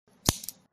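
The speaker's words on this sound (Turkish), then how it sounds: "bu led şeridi 30 santimlik makasla gösterilen yerden kestikten sonra" Scissors snip through an LED strip at its marked cut line, making one sharp, close click followed by a softer second snap, brief and quiet with no talking.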